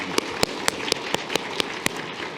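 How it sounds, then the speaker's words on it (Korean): A church congregation at Sunday worship clapping in unison to welcome new members, about nine sharp, evenly spaced claps in quick steady rhythm over a hushed room. "우리 이 시간 우리 다시 한번 큰 박수로 이분들 환영합니다"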